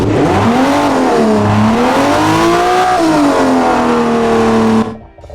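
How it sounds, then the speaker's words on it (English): A high-performance car engine from a video game in development revs loudly and continuously, its pitch rising and falling smoothly, then cuts off abruptly near the end. "it's a high performance engine and it sounds really good"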